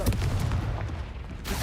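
The Confringo spell is cast in Hogwarts Legacy, a short loud blast like artillery fire with dense booming bursts that carries through and flares again at the close.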